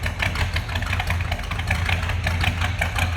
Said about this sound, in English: A little rumble coming out of that V8.